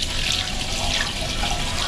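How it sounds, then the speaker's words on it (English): Sanitizer water is poured into an ice cream machine, a steady close splashing gush of liquid running without pause. "Now I got our sanitizer water pour it in"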